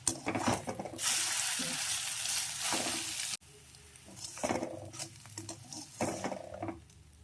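Prawn and egg omelette batter frying in a pan with a strong, steady sizzle that crackles up loudly, drops off suddenly, then surges again in bursts of spattering.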